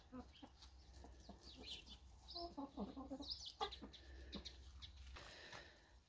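Chickens cluck close by, several hens giving short, overlapping clucks and brief calls over a low background hum.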